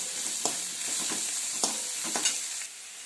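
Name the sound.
sautéing tomatoes in a pan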